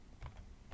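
A few soft keystrokes tap on a computer keyboard while a command is entered in a Linux terminal. They are quiet and close, with no talking.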